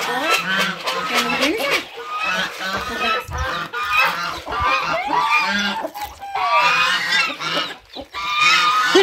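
Geese on a rural farm honk loudly and repeatedly in harsh, overlapping calls close by, with other farm fowl and people's voices mixed in.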